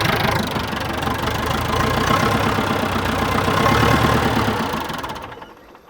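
An old backhoe engine, a scrap-bound machine being revived, idles with a steady knocking chug that runs loud and close for about five seconds, then dies away as it cuts out, leaving silence.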